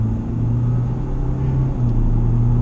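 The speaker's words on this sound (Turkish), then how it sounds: "Şöyle mesela gaza bastım." A Ford Ranger Wildtrak pickup engine accelerating as the gas pedal is pressed, a steady low droning hum with a rising tone, heard from inside the cab with no talking.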